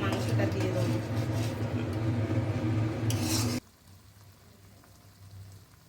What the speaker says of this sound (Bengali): আর একটু নেড়ে চেড়ে ভালো করে কষিয়ে নেব।